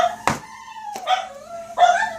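Dogs bark and howl indoors, a few loud yelps and drawn-out whining howls close by.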